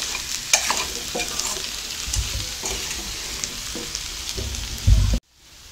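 Potato masala fry being stirred in a heavy-bottomed pan over a low flame, a continuous close sizzle broken by repeated scraping strokes of a spoon, ending abruptly in silence.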